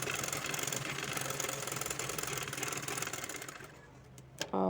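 A sewing machine stitches a 2.5-inch fabric strip onto the back of a kurti sleeve, its rapid steady whir running continuously, then slowing and stopping near the end with a brief clunk.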